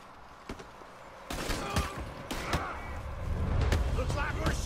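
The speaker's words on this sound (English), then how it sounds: "Looks like we're shooting our way out of here, fellas." Gunfire in Red Dead Redemption 2 during a shootout: sharp, scattered shots ring out over a rumbling backdrop, with a voice heard in between.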